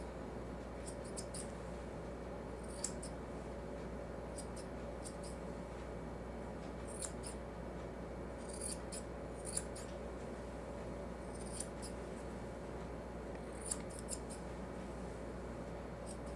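Scissors snip a dog's fur during grooming, giving short, crisp double-snips at irregular intervals over a quiet, steady room hum, faint and close, with no voices.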